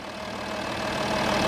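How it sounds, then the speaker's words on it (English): A 2011 Volkswagen Touareg 3.0 V6 TDI BlueMotion Tech SE turbo diesel idles with a steady, close mechanical drone and a faint diesel clatter, growing slightly louder over the short stretch. "has a 3-litre V6 turbo diesel engine"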